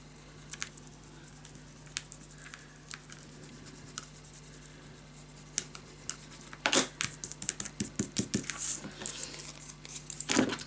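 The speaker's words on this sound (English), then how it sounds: "So burnish it down and just cut it out." Scissors snipping through a scrapbook paper piece for a mini album, starting with sparse faint clicks over a low hum, then a dense burst of close, crisp cutting snips in quick succession.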